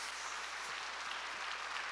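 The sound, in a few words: congregation applause in church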